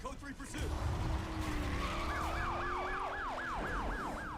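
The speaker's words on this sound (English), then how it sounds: "It's the police." Police siren wailing in the Need for Speed: The Run racing video game, a rising and falling electronic siren cycling repeatedly over tire skidding and engine roar, loud and close.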